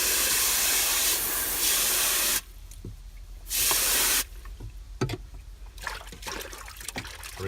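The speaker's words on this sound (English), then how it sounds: "So I'll dump that out, and I will wash them and rinse them again." Water runs loudly from a faucet in steady bursts as pike fillets are rinsed, the stream starting and stopping with clattering handling sounds between gushes.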